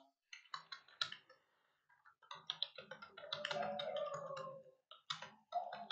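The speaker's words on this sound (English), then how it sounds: "Now I will type again" Typing on a computer keyboard makes close, quiet clusters of rapid key clicks in uneven bursts with short pauses between them.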